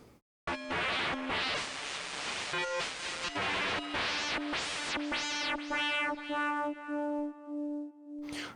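An FM200 synthesizer on its scream distortion setting plays a bright, harmonically dense tone that starts as gritty buzzing and sweeps through repeated rising filter swells before settling into a cleaner sustained pitch, then cutting off.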